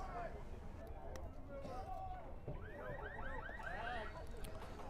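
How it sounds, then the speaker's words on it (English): A car alarm sound effect is played over the PA at a 2023 high school baseball game. Repeated rising electronic chirps sound for a couple of seconds, mid-level under a commentator's talk and crowd noise. "Sound effect of the car alarm again."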